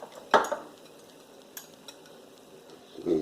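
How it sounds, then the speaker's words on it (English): A whisk clinks against a bowl while blending egg yolks, in a few sharp metallic taps and scrapes, close and fairly quiet with no talking. "I'm just going to do a little whisking on these egg yolks so that they're blended together before I put them into the bowl as well"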